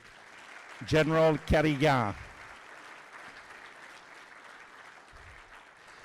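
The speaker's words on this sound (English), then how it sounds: "Another big round of applause for" Audience applause at a mayor's breakfast event, a steady, fairly quiet wash of clapping that carries on behind a voice announcing a name at the start and then continues alone.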